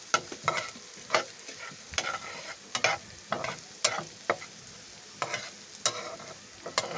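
Food fries in a pan with seasoning salt while a utensil stirs it in repeated scraping strokes, sharp clinks and scrapes recurring about every half second over a soft sizzle.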